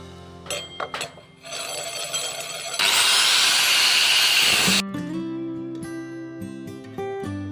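A car's front brake disc is resurfaced on a machine, a loud grinding, hissing whine running steadily for a couple of seconds between quieter mechanical clatter and humming.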